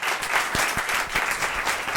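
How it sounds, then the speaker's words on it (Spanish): An audience in a Spanish talk event claps for the speaker, a continuous close wash of hand claps with scattered louder thumps. "un aplauso para Mardía y para todos"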